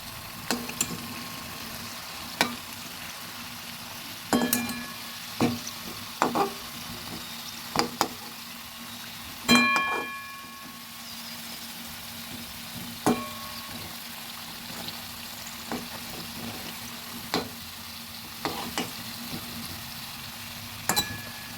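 Flour and potato snack fries in a pan with a steady soft sizzle, while a utensil stirs and scrapes it in sharp, irregular clicks spread throughout, close and alone without talk.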